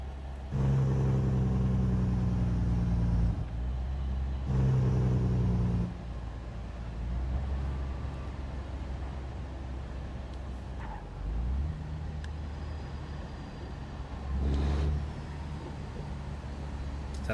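A Kenworth K100E cab-over truck engine rumbles past, low and steady, with two louder surges early on and a third swell near the end, rising and fading as it drives by.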